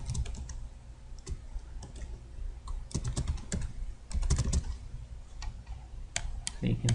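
Computer keyboard typing while email settings for a Foscam IP camera are filled in, quick light key clicks in short irregular runs, close and moderately loud, with no talking.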